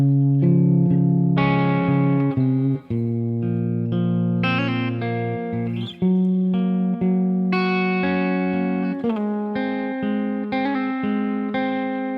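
Guitar plucks the first tab line of a song, a steady run of picked notes and chord tones with distortion and effects, loud and sustained throughout, with no talking.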